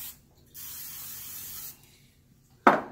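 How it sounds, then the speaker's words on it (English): Pam cooking spray misted onto pizza pans in a supermarket kitchen: two short hissing bursts, a longer steady spray of about a second followed by a brief sharper one, close and clear. "we're going to spray with Pam,"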